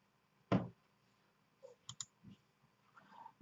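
A computer mouse clicks a few times at close range, one firm click followed by a quick pair and some lighter taps, in an otherwise quiet room.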